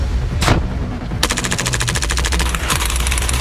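An airsoft gun fires close up: one sharp shot, then a rapid automatic burst of snapping rounds, a brief gap, and another quick burst.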